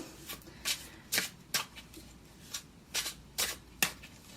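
A new 8th House Tarot deck is shuffled by hand in about nine quick, crisp riffling bursts at an even rhythm, close and fairly quiet, with no talking.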